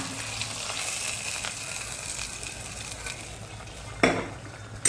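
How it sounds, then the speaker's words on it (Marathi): Coriander added to a sizzling ghee tadka for a village-style chickpea curry, a steady hiss of frying with a couple of sharp pan clinks near the end. "आता हे तडक्यामध्ये थोडे कोथंबीर देऊ टाकू"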